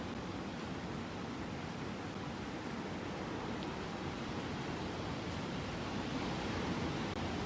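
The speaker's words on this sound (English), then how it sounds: "But look at these waves." Ocean waves break steadily at the shore in Bali, a continuous broad wash of surf with no distinct individual crashes, heard fairly faint and alone.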